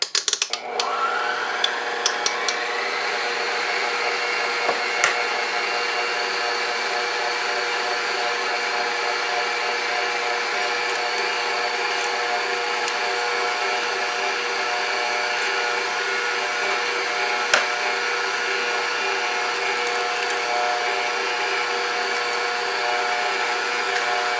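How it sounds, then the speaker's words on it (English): An electric mixer creams butter and sugar for blueberry muffins, a loud, steady motor whir that runs unbroken throughout, with a few faint clicks. "I'm going to add eggs one at a time while the mixer is running. Sorry, it'll be a little noisy"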